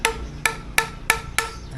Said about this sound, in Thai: ใช้ไม้นะครับ หรือว่า ค้อนนะครับตอกนะครับ